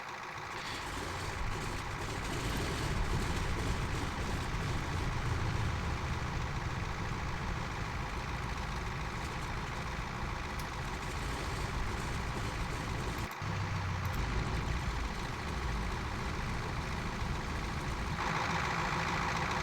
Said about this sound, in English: The engine will run now.